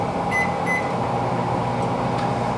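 A microwave oven cooking meat runs with a steady, even hum and fan drone close by, with faint beeps early on and no talk.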